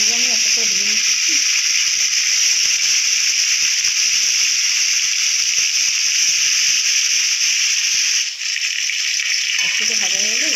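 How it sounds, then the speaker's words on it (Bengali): Rohu fish sizzling in hot mustard oil in a pan, a loud steady hiss and crackle throughout, with a voice talking briefly at the start and end. "মাছগুলো আমি একটা করে ভেজে নিচ্ছি।"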